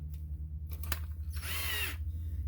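A Ryobi cordless drill fitted with a 10 mm socket whirs in a short burst to back out factory bolts on a 2001 Jeep TJ, close and clear, preceded by a few clicks and handling knocks over a low idle hum.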